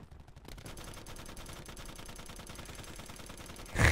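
Sustained LMG machine gun fire in Black Ops 4, a rapid steady stream of shots running for several seconds without voices, ending in a louder burst.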